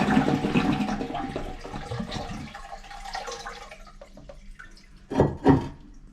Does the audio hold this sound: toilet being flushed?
yes